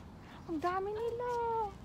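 Cats meow several times in quick succession, rising and falling cries close by, with a voice imitating a meow mixed in.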